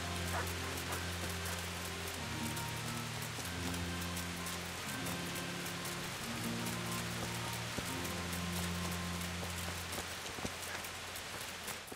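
Steady rain in the medieval open-world game Kingdom Come Deliverance, a continuous even wash over a background of sustained low musical tones, with no talk over it.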